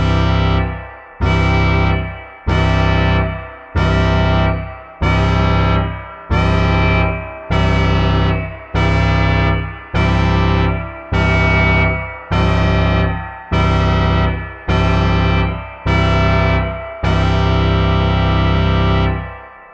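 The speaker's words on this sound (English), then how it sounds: "Each time you trigger a new note, the motors and digital oscillators get detuned by a random offset." MOTOR Synth MKII playing repeated notes whose motors and digital oscillators are detuned by a random offset on each trigger, a steady series of about fifteen loud, rich sustained tones, each starting sharply and decaying before the next.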